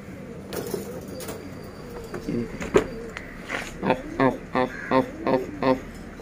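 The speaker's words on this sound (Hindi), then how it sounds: "इसमें सिर्फ बेदाग कबूतर।" Pigeons at a loft holding a new lot of spotless birds coo in a run of rhythmic pulses near the end, after a few sharp knocks and a bit of handling noise.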